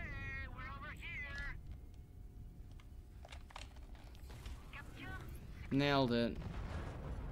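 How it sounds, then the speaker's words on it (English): Sudden heavy booms and crackling blasts from the space video game Fractured Space, with someone talking over them and a louder burst near the end. "Explosion out of nowhere, great."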